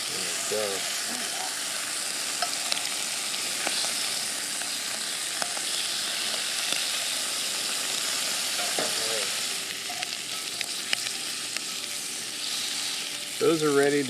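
Steady frying sizzle hisses from herbs cooking in butter in a pan throughout, with occasional light clinks of a utensil stirring and a brief scrape near the end.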